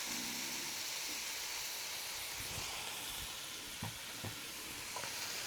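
Chopped onions and minced garlic fry in a hot pan, giving a steady, faint hiss of sizzling with a few soft clicks and pops near the end.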